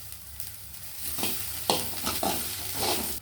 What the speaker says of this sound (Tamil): சின்ன வெங்காயம் இஞ்சி பூண்டு போட்டுக்கலாங்க. தேங்காய் போட்டுக்கலாங்க.